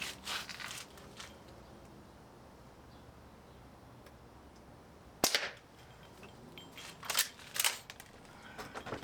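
An 1866-style lever action air rifle fires a few sharp shots, one near the middle and a close pair toward the end, with a softer click or two early on, and no talk.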